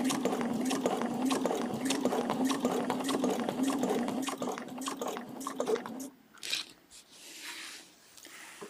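Sewing machine stitching quilted feather designs along a template, a steady close whirring run of rapid stitches that stops partway, followed by quieter handling noises.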